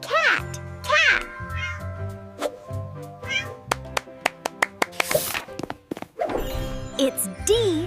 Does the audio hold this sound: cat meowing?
yes